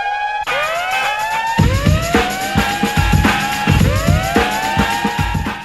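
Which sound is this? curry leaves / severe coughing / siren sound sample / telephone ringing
siren sound sample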